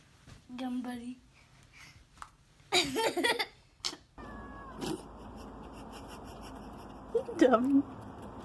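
Several cat meows and yowls in a funny animal compilation, short bursts spread through the stretch, from a drawn-out cry near the start to a louder meow near the end, mixed with people talking and other reaction sounds.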